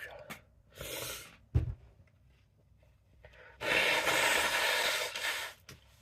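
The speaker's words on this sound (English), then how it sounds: "Oh, excuse me for blowing my nose." A person blows their nose in a couple of sharp, breathy honks, with a longer forceful blow near the end, close and fairly loud.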